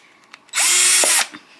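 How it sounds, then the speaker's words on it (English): A power drill whirs in one steady burst of about two-thirds of a second, loud and close, then cuts off, with small handling clicks on either side. "feet back out of the way for the drill to go back."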